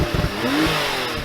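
An older Porsche 911 Turbo S, sitting in neutral, revs its engine in a short, loud burst, the pitch climbing quickly and then settling back, close by.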